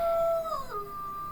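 A person's voice imitates a wolf howling: a single short, tonal howl that holds a high note, then slides and wavers before settling, close and fairly clear.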